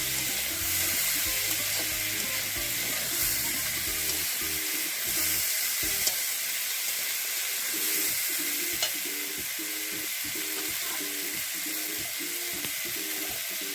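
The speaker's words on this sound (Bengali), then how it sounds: "গাজরের খাদি, বিট দিয়ে নাড়তে থাকবো।" Grated carrot, beetroot and coconut fry in a pan under a steady hiss of sizzling, with rhythmic stirring strokes scraping the pan throughout.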